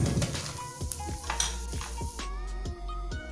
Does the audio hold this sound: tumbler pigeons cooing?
no